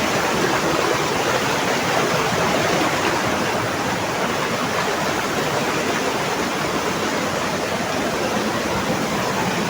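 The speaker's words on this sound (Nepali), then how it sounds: "यही खोला यत्रो छ ठुलो खोला कत्रो होला" A large, deep river rushes past in a loud, unbroken roar of churning water, close by and steady with no other sounds.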